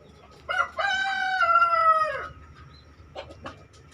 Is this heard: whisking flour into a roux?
no